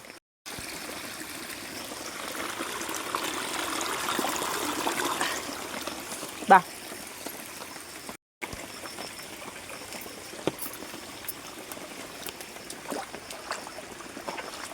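A steady, soft trickle of rainwater runs continuously through a dug drainage channel on waterlogged land, with one brief sharp splash partway through and a short gap of silence.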